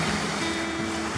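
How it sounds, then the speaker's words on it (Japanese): Waves from the Sea of Japan on a calm, windless autumn morning roll in and break as a shore break, giving a steady, loud wash of surf with no gaps. "月曜日朝6時45分の日本海は良質なうねりは入っていきますが、伸びて伸びてインサイドからショアブレイクですね。"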